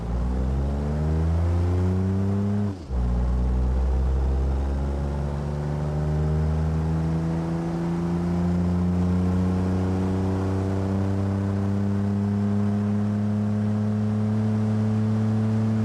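A 1964 Gavril Bluebuck 232 in BeamNG pulls hard from a standstill toward 60 mph, its engine note climbing steadily through the gears with a brief dip at a shift, loud and close throughout.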